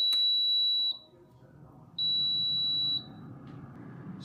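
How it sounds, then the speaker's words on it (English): An air fryer set to 400 for French fries gives two long, steady high-pitched beeps, each about a second, separated by a pause, with a faint appliance hum underneath and no talk. "So the air fryer is on."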